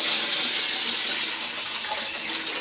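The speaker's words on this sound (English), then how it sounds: "Now turn the cold water on." Cold water gushes steadily from a bathtub tap in an apartment bathroom, a constant broadband splash with no voices.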